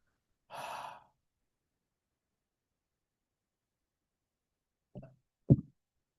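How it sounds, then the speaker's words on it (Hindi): A long, deep breath let out through the mouth during a guided meditation session, one broad soft exhale followed by silence and then two short, faint breathy sounds near the end. "एक लंबी गहरी सांस, और रोक के होल्ड, और मुंह से छोड़ते हुए शरीर को ढीला छोड़ते"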